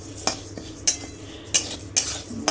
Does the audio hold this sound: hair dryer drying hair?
no